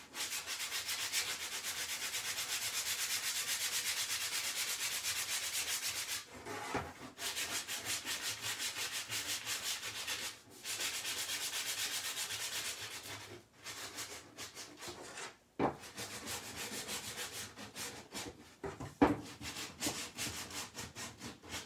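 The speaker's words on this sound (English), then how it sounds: "I need some new sandpaper." Worn-out sandpaper rubbed by hand over a wooden craft sign, working the front and back edges, giving a steady, close, gritty scraping that runs continuously, then breaks into shorter strokes with brief pauses and a few sharp knocks.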